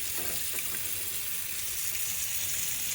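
Water running and draining steadily from a kitchen sink after the drain was unclogged, a continuous close-up hiss and trickle with no talking.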